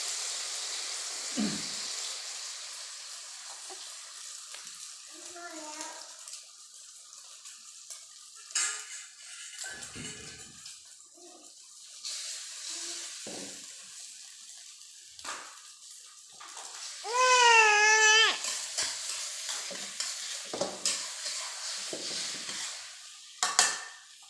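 Catfish fries in oil in a pan for a spicy Thai catfish chili dip. A soft, continuous sizzle runs under intermittent scrapes and clinks of utensils against the pan, with a louder crackling burst midway.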